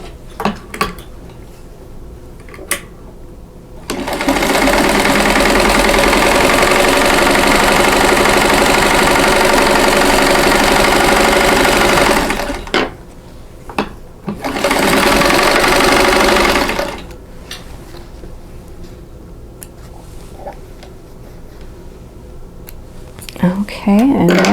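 A sewing machine chain-pieces butterfly quilt blocks, running in two close, loud stretches of steady whirring stitching, one about eight seconds long and a shorter one of roughly three seconds, with quieter handling and fabric noises in the pauses.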